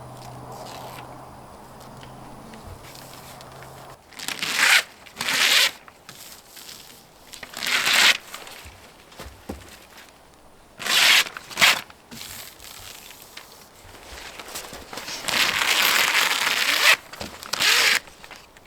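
Tape pulled off the roll and pressed onto a trailer during a makeover, several loud, close ripping bursts of a second or two each separated by quieter pauses, with no talk.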